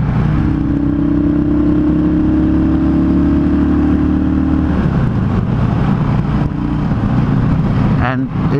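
A Yamaha V Star 650 motorcycle fitted with pod filters, its engine loud and close, holding a steady rumbling idle before a throttle blip lifts it into a rougher, rising rev.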